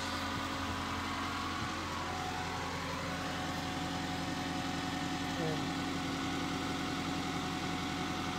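Diesel engine of a 1990 Belarus 510 tractor, 87 hp, fitted with a replacement 2010 engine, idles steadily and fairly close with a constant droning hum and no change in pace throughout.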